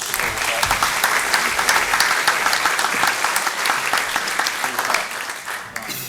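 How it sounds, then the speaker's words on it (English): A dense, steady round of audience applause fills the room at the BCS Conference 2024 awards ceremony, loud and continuous throughout, with faint voices mixed in and a slight fade at the very end. "Round of applause for Vivian."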